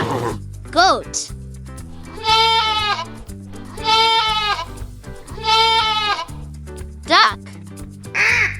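Goat bleating in three loud, long wavering calls, each set over a backing of simple music, with short cartoonish sound effects in between.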